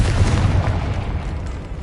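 Confringo explosion spell cast in a PS5 wizarding school game, a loud rumbling boom that rolls and fades over a couple of seconds.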